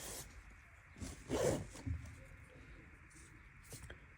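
A rubber eraser scrubs out a pencil curve on paper in a few soft, brisk rubbing strokes, faint and close in a quiet room.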